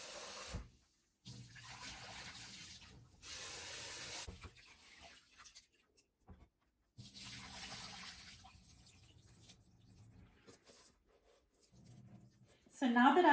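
Sushi rice being washed in water, with bursts of sloshing and rubbing of grains in a bowl separated by quiet gaps, close up, a voice briefly heard at the end.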